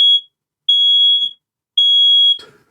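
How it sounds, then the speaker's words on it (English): A smoke alarm with a flat battery sounds three high, piercing electronic beeps, each about half a second long with short pauses between, loud and close, followed by a faint rustle. "Your smoke alarm battery's gone flat."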